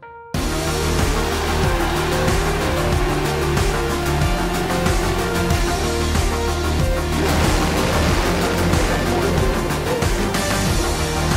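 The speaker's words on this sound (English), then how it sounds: "it's a 2-valve Suzuki 1655cc engine" A drag bike powered by a 2-valve Suzuki 1655cc engine of about 353 horsepower launches from the line, bursting into a loud, sustained roar that holds for over ten seconds.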